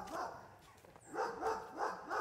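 A watchdog at a rural sawmill property barks in a quick run of yaps, several sharp barks in a row at moderate distance and fairly quiet.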